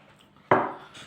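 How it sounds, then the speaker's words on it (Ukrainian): Milk is poured onto Nesquik cocoa powder in a cup, a sudden close splash and gurgle that begins abruptly and slowly fades over about half a second. "І молочка заливаю"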